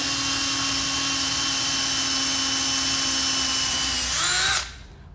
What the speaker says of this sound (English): And you drill your hole.